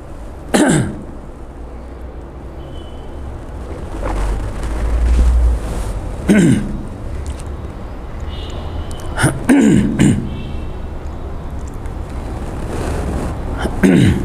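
A person coughs and clears their throat several times, loud and close, with spaced harsh bursts over a low background rumble.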